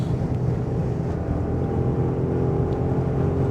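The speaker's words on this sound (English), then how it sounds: "The sound I'm hearing is all coming from the exhaust" A 2025 Audi SQ8 SUV's exhaust rumbles low and steady as it accelerates on the Autobahn, a deep continuous roar heard from inside or close by.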